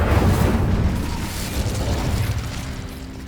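Incendio fire spell cast in Hogwarts Legacy: a burst of fiery, rumbling whoosh that starts loud and gradually fades over a few seconds, with no talking.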